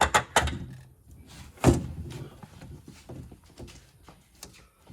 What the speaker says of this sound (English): we're going to slide the roof so that we can get it to slide out through the doorway here